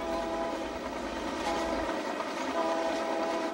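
Steady rumbling passenger train crossing Canada, approaching a station, with a sustained horn-like tone held throughout, loud and continuous with no voices.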